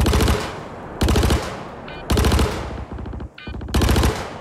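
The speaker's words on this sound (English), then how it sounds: "Bullets are ricocheting everywhere." Automatic gunfire in a Star Citizen raid on Orison, several loud rapid bursts separated by short pauses, with quieter shots and ricochet pings between them.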